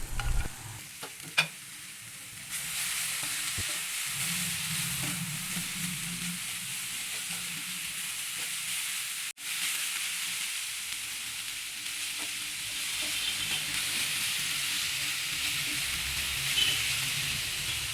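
Chopped okra stirred in a hot pan sizzles steadily, with scraping spoon strokes early and a continuous frying hiss that carries on to the end.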